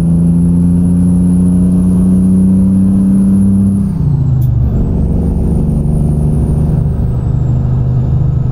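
Air brakes on a heavy truck hiss loudly in American Truck Simulator while driving the Coquihalla Highway in British Columbia, a steady engine drone that drops in pitch as the rig slows sharply, with no talk.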